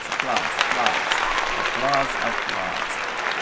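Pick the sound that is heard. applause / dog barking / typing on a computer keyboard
applause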